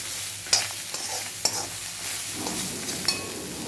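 Ingredients for a fenugreek, almond and capsicum chutney roasting with salt in a pan, with a continuous dry sizzle and sharp scrapes of a spoon stirring against the pan at irregular intervals.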